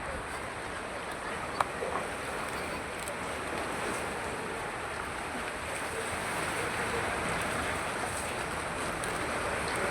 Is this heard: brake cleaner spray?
no